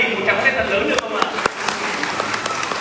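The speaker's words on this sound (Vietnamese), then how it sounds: "Hãy dành cho các hai gia đình một tràng pháo tay thật lớn được không ạ?" Wedding guests applaud together in a reception hall, a steady burst of clapping mixed with voices and chatter, fairly loud throughout.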